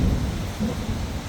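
During a heavy downpour in Melbourne, a low thunder rumble rolls briefly beneath the steady hiss of rain.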